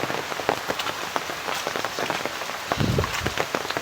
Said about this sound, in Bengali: আমাদের এদিকে খুব বেশি বৃষ্টি হচ্ছে।